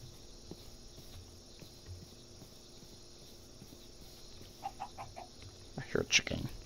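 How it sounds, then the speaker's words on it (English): Chicken clucks from a Minecraft survival world, a few short soft clucks arriving late over quiet game ambience, close but faint with no talking. "I hear a chicken."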